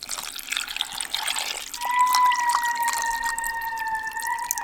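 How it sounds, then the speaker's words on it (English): Water pours into a rock tumbler barrel over the rocks, a close splashing stream that steadies into a ringing fill with a rising tone, alone without talk. "Okay, so now we're gonna add some water."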